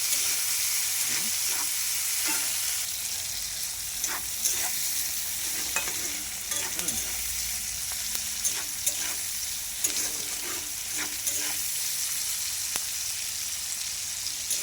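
Onion and dry red chilli with a five-spice tempering fry in hot oil, giving a steady close sizzle broken by repeated scraping stirs of a spatula, with no voices.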